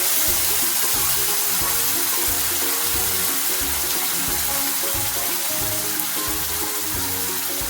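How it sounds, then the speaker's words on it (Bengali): Water pours steadily into a pan of Bengali-style egg curry on the stove, a continuous close splashing hiss with a rhythmic low sputter underneath. "জল দিয়ে দেবো।"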